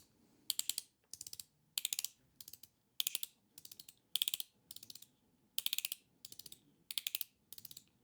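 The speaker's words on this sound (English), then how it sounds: "So this is a really neat little kind of push clicker almost." A PICOS fidget slider push clicker by VIBE EDC gives about fourteen sharp clicking bursts in an irregular rhythm, each a quick cluster of crisp snaps, close up in a quiet room.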